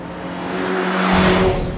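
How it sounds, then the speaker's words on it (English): A 2-litre Mazda MX-5 engine revs up hard, pitch climbing steadily over a couple of seconds, loud and close, with no voices. "Nail it! Let's go the revs!"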